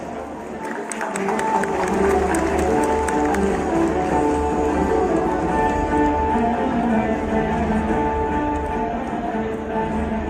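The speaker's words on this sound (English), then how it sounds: "Let's have another round of applause for the wonderful galaxy of little Gracie and our guys, please" Dense, sustained audience applause fills a hall at the 25th Kolkata International Film Festival, steady and loud from start to finish with faint tonal background underneath.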